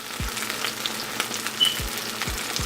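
A Just Egg plant-based omelet frying in a pan over medium-low heat makes a gentle, steady sizzle with light crackles, close by, alongside a few low thumps.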